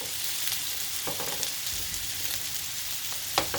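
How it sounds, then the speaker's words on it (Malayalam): Marinated prawns fry in hot oil in a pan, giving a constant close sizzle with scattered sharp pops and a few stirring scrapes. "അപ്പം നമുക്കിത് പൊരിച്ചെടുക്കാം."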